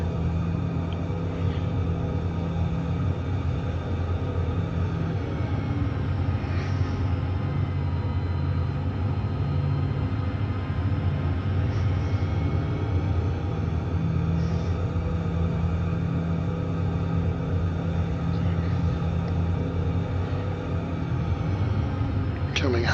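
Pilatus PC-21 turboprop engine held at full throttle in a flight simulator, a steady, loud, unbroken drone with a low hum running throughout, with no break or change across the whole stretch.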